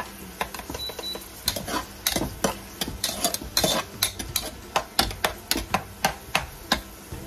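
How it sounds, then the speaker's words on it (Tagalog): Onions being stirred in a cooking pot for native chicken tinola, a spoon scraping and knocking against the pot in quick rhythmic strokes, close and clear, with faint sizzling underneath and no talking. "So, lagyan na natin ang sibuyas. Ayan, halo-haluin natin mga langga."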